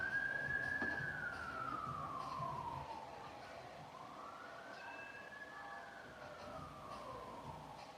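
Ambulance sirens wail in slow rising and falling sweeps, faint and distant, fading as they pass through a quiet New York City backdrop.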